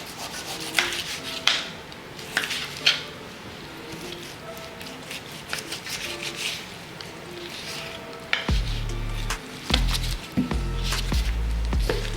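A knife trims fat from large oxtails, making intermittent scraping and rubbing cuts close by, followed by a few louder dull thumps and slides near the end.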